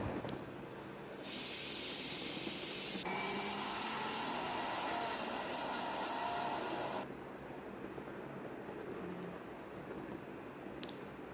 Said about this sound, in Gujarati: તેની અંદર આપણે થોડું પાણી નાખી અને તેને આપણે મિક્સર જારમાં ક્રશ કરી